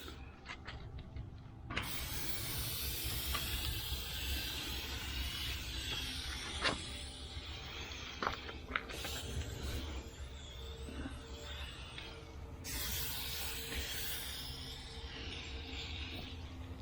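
An aerosol spray can being sprayed on a dually truck's tire in a garage, a steady hissing spray in long bursts with brief pauses between them, near and fairly even in loudness.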